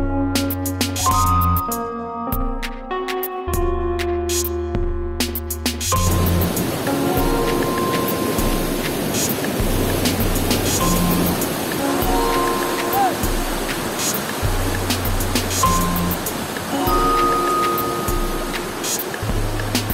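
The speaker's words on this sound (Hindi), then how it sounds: "पानी का शोर आप सुन सकते हैं," Stream water rushing in the forested Kumrat Valley, a steady close broadband roar, with tonal music over the opening seconds and continuing faintly above it.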